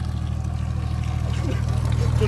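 Water pours and splashes steadily out of a car door during an off-road trip, over a low engine rumble, with a voice talking faintly underneath.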